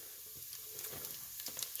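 Shredded carrots and onions hit a hot pan for Creole cabbage and give off a faint, steady sizzle with a few soft crackles. The sound is quiet and close, with no talking.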